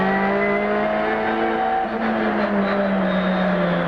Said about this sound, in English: Plenty of wheel spinning, you can just hear that rev changing.